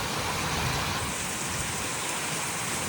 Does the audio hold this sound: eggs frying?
no